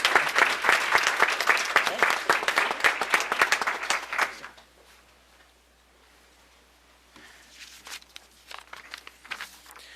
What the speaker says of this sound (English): please give a round of applause to Seneca Neighborhood Association